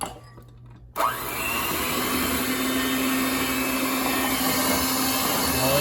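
A KitchenAid stand mixer starts up abruptly and runs with a steady, loud motor whir while mixing dough, holding a constant hum with no talking.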